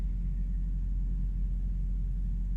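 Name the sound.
distant thunder of an approaching storm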